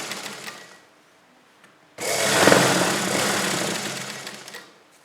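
A sewing machine stitches buckram onto an Afghani salwar in one close, loud, continuous run of rapid needle chatter lasting a few seconds, then stops abruptly, with only faint handling sounds before it starts.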